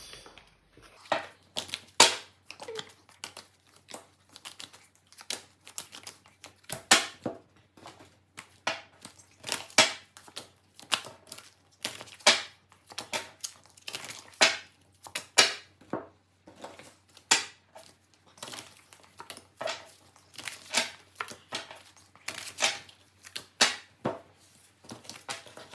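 Oracle cards are shuffled and dealt into three piles, heard as a long run of crisp, close snapping clicks and flicks in irregular quick bursts against a quiet background.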